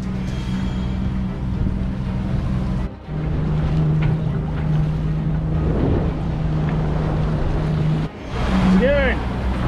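A sailboat motor-sails toward Rodriguez Key on the way to the Bahamas, its steady engine drone mixed with wind and water noise, while people talk over it at moments.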